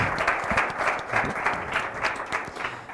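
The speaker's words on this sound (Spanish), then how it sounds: "Os pido un fuerte aplauso para él" Lecture audience applauding a speaker introduced at a talk on infinity, steady dense clapping from a crowd in a hall, moderately loud and continuous throughout.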